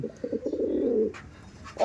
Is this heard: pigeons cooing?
yes